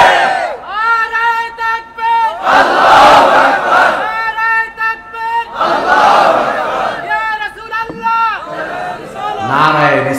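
A large crowd chants a religious slogan at an Islamic gathering in Bangladesh, loud voices rising in several sustained bursts that alternate with a single leading voice, call-and-response style.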